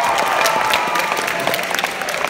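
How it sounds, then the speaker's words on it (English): An audience at a university drag show claps for the DJ, a thick wash of applause that stays strong before tapering slightly toward the end. "Please make a big round of applause for your DJ"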